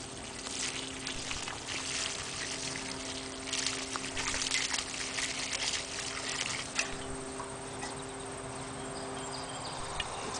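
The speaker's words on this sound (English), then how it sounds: "the next thing that we're going to do is to thoroughly water it" Water poured from a hose or can onto soil around a newly planted blueberry bush in a container, a steady soft splashing and trickling hiss that runs throughout, fairly quiet.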